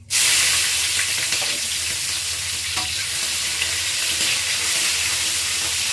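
Six or seven finely cut green chillies frying in a kadai give a loud, continuous close-up sizzle and hiss that holds evenly from start to finish, with no voices.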